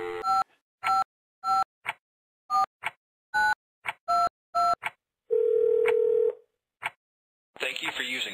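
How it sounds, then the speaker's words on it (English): Payphone keypad tones in the Escape The Phone Booth game: a run of crisp, evenly spaced two-tone dialing beeps, then a sustained steady tone and a final burst of clicks and noise. "Put the quarter in the phone booth, then call the number."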